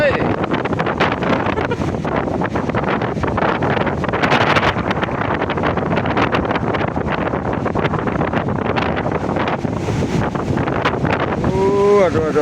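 Strong wind buffets a fishing boat at sea in rough water, a loud continuous roar of gusts and spray blasting the microphone, with a voice speaking faintly underneath.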